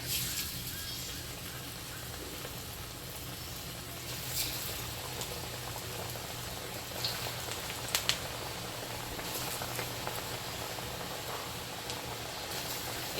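Pitha cakes deep frying in plenty of hot oil give a steady, dense bubbling hiss that holds at an even level throughout, with a few small crackles and no clear talk.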